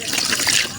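Water poured from a container onto a surface being tested for leaks, a steady close splashing trickle that runs continuously under a man's speech.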